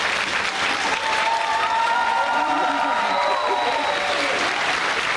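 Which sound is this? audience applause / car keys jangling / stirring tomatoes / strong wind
audience applause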